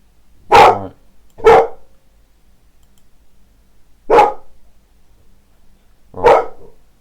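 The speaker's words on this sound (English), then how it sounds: "Sorry about that, my dog's barking" A dog barks four times in sharp, separate bursts, two close together at the start and two more spaced out later, loud and near against a quiet room with no talk.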